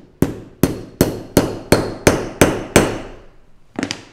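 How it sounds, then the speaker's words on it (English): Hammer strikes flattening a metal rivet on a leather shoe strap, eight sharp evenly spaced close blows followed by a quicker double tap, with no talking. "I like to not use a rivet setting tool, just hammer it flat"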